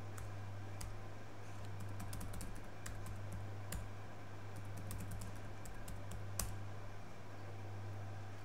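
A password being typed on a computer keyboard, rapid irregular key clicks over a steady low hum, fairly quiet and with no talking.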